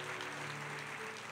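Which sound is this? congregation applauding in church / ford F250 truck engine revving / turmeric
congregation applauding in church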